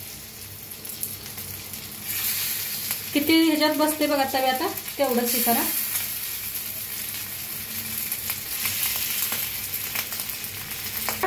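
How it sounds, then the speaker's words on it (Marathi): Fish frying in hot oil on a tawa, a steady hiss that swells as the fish goes in, with someone talking over the sizzle. "तवा भी चांगला तापलाय, तेल भी चांगलं तापले। आता मासा आपण सोडून घेऊया।"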